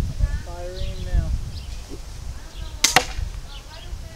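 An arrow loosed from a bow at a target about ten yards away, a single sharp snap and thud near the end, with people talking quietly before it.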